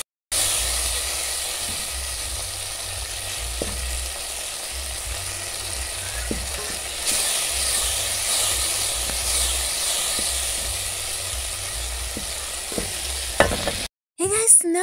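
Soft tomatoes cook down in a pan with a steady hissing sizzle and steam, while a spoon scrapes and knocks at intervals, close up, ending in a brief break and a final clatter.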